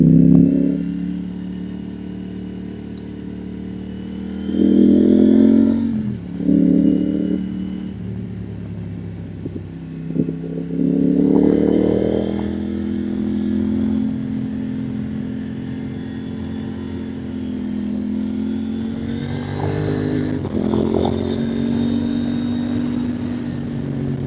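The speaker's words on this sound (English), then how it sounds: "that was no braking, just engine decel" KTM Duke 890R motorcycle engine decelerating on a Bay Area backroad without braking, a steady close rumble with brief swells of revving and loud wind-blown drone throughout.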